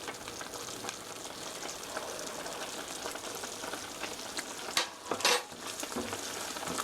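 Tomato sauce for spaghetti is stirred in a pan, giving a steady close sizzle and bubbling with soft scraping strokes and a couple of louder clacks near the end.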